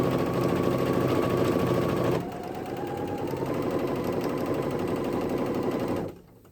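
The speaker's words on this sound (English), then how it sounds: "you just continue to sew all the way down to the very end of the hem line" Sewing machine stitches down a dress hem in a fast, steady mechanical whir, close and loud, easing to a slightly lower pace midway before stopping at the end.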